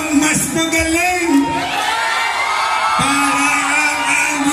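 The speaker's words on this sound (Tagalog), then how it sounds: "Pinapahanga niyo ako sa sigawan ninyo" A dense concert crowd shouts, whoops and cheers loudly together in sustained bellowing waves that swell and ebb throughout.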